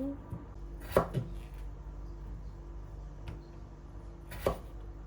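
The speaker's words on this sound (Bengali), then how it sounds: "আলুগুলোকেও কেটে নেব।" A knife cuts potatoes with a few sparse, crisp knocks on a board, two close together and then another pair after a pause. The room is otherwise quiet and no one speaks.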